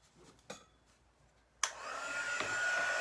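A hair dryer blasts steady airflow over freshly applied chalk paste on a Chalk Couture transfer, switching on loudly after a few quiet handling clicks and running continuously to the end.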